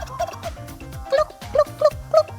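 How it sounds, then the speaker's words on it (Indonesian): A turkey gobbles in a series of short, warbling bursts, repeating roughly every half second and growing more insistent, over a steady low rumble with occasional dog-like barks mixed in. "Kalkun juga latahan, alias sangat terpancing bersuara kalau mendengar suara lainnya juga."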